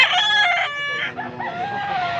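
Rooster crows loudly and close, a single drawn-out call followed by a few softer clucking notes.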